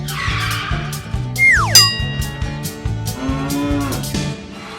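Grass-fed cattle on a small ranch give loud, close, drawn-out moos, several calls overlapping one another above a steady low rumble in the background.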